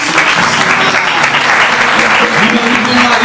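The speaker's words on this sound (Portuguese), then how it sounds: "Dá uma salva de palmas para a gente." Loud, sustained audience applause fills the room at a Catholic preaching event, a steady wash of clapping hands throughout with a faint voice underneath.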